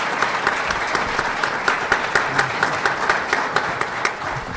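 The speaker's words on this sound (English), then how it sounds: "Let's give a round of applause." Audience applause closing a panel session on digital learning and schooling, a dense steady wash of many hands clapping at close range with sharp individual claps popping out, sustained throughout without talk.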